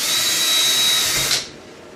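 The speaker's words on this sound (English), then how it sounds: "And turn this thing on. Drill, high speed." A power drill whirs steadily at high speed for over a second while drilling holes for pop-in casters on a subwoofer, then cuts off and spins down, leaving quiet room tone.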